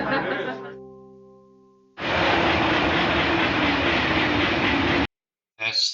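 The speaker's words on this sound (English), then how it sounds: "That's the French train." A French TGV high-speed train roars past in a loud, steady broadband rush lasting about three seconds, cut off abruptly, preceded by an unrelated tonal sound and followed by a brief fragment of voice.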